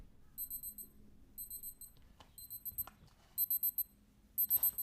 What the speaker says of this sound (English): Let's see what the timer sounds like.